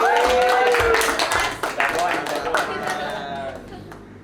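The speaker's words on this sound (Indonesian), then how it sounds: "Mungkin bisa tepuk tangan untuk Mas Woi." A small audience claps at a campus podcast session while a guest is welcomed, a short burst of hand claps mixed with talking voices that fades over about four seconds.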